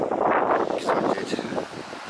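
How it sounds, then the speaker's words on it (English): Gusty coastal wind on the Isle of Wight roars in close against the microphone in uneven bursts, then eases slightly toward the end. "A bit windy though, that's the only problem."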